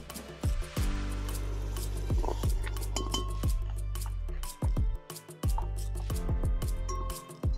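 Onion and ginger blend spooned into shea butter frying in a pot during village cooking in Ghana, with repeated clinks of a metal spoon against the pot over a low sizzling hiss, close up.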